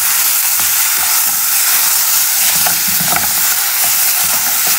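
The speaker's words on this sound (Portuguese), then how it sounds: "Agora, alho bem douradinho, né? Eu gosto bem douradinho o alho. Aí eu vou refogar agora aqui." Garlic sautéing in a hot pan gives a loud, dense, steady sizzle close up, with faint stirring scrapes underneath and no voices.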